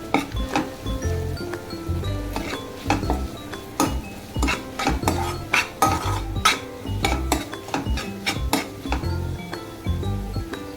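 Spices such as coriander-cumin powder and Malvani masala being stirred and sautéed in a pan for paneer butter masala, with repeated close metallic scrapes and clinks of a spoon against the pan over a steady low sizzle.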